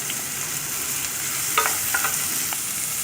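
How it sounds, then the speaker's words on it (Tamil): Ginger, garlic and onion sautéing in sesame oil in a cooker, a steady soft frying hiss with a few brief stirring scrapes and clinks, fairly close and without talk. "இஞ்சி, பூண்டு, வெங்காயம் எல்லாத்தையும் போட்டு நம்ம வதக்கிக்கலாம்"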